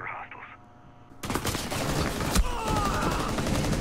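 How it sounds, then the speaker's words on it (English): Gunfire in Rainbow Six Siege, coming through a wall: a brief quiet passage then a dense, loud burst of shots and impacts sustained to the end, with some faint game noise underneath. "he shot me through the wall"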